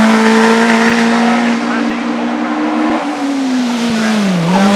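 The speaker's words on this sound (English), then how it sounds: "the Lotus 35 crosses the line" A Lotus Ford 35 Formula 2 racing car with an aluminium monocoque tub screams up the Shelsley Walsh hillclimb, engine held at a loud, steady high pitch close by, then dipping slightly at the finish while a commentator talks over it.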